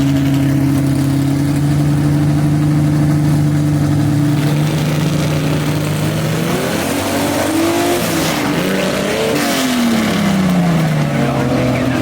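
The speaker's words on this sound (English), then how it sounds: "245 cubic inches of Chevy with a G-force behind it and a Ford rear end" A Chevy 245 cubic inch gasser drag car with a G-force transmission and Ford rear end idles loudly with a low, steady rumble at a drag strip, then revs up and blips the throttle in rising and falling surges.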